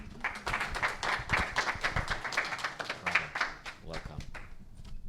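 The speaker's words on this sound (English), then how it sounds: "A bigger round of applause for the Maestro Richie, please" Audience applause at a music and tech conference, a steady wash of many hands clapping that swells and fades over about five seconds, close and fairly loud, with murmured voices mixed in.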